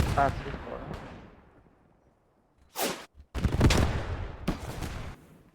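Grenade explosions in the World War II video game Squad 44, two or three sharp heavy blasts with decaying rumble after an opening burst, loud and close, separated by short silences.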